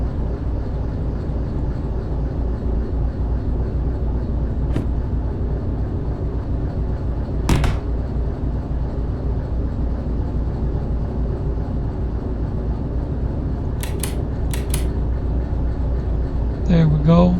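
Locomotives in the Derail Valley train simulator game, a steady low rumbling drone of engine and rail noise running continuously, with a few brief higher clanks and a rising tone near the end.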